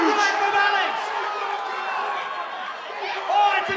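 Spectators at a white-collar boxing fight in Dubai cheer the fighters, a dense, continuous crowd roar with rising shouts and a voice talking over the noise.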